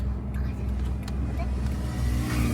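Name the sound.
car noise from inside a moving car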